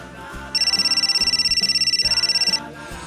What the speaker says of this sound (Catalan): El telèfon, que t'estan cridant!